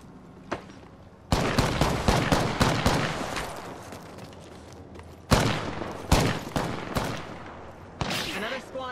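Rapid bursts of gunfire in the video game Apex Legends, two clusters of loud sharp shots with brief pauses, a few isolated pops in between and lingering echoes.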